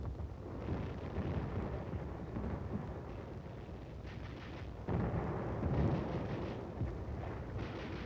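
Naval bombardment explosions boom during the Inchon landing, heard as heavy, continuous low rumbling with deeper surges partway through, distant and without voices.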